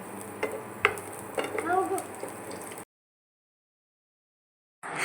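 Garlic and chili sizzle in a pan as a utensil stirs and scrapes with a few sharp knocks. The sound cuts to silence for about two seconds, then the sizzling returns.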